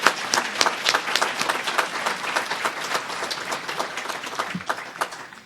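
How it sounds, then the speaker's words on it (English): Sustained audience applause at an alumni awards and recognition ceremony, a dense, steady crowd of clapping hands filling the room at even loudness throughout. "Please give them a round of applause."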